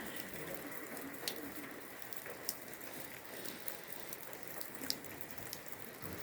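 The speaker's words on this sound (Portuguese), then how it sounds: "É chuva aqui, pessoal, agora, viu?" Steady outdoor rain falls on the ground and surfaces beside a São Pedro night bonfire, a continuous wash of patter with scattered louder drops, no voices.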